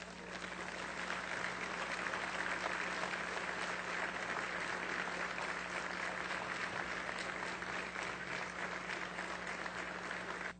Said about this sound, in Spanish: para quien pido un fervoroso aplauso